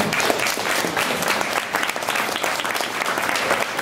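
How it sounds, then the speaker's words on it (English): An audience at a CogTalk public talk on robotic companions applauds a team of Plymouth University robotics researchers, loud, dense clapping from many people sustained throughout without pause. "I would like to give you all a round of applause."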